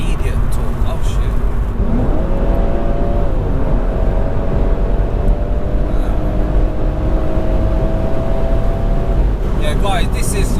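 BMW M140i with a JB4 tune accelerating hard, engine note rising through the gears with steady loud cabin rumble and audible shifts, while people talk over it.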